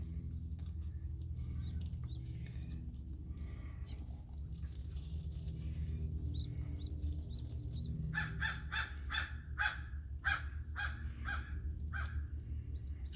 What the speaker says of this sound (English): There's the neighborhood crows.